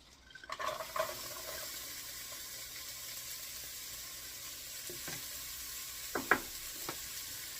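Half a cup of chopped celery sizzles softly in four tablespoons of melted butter in a pan, a low steady hiss punctuated by a few clinks and stirring scrapes near the start and end.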